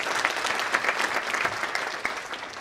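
Steady, dense audience applause at a Correctional Service Week event, many hands clapping continuously at close range with no talk over it.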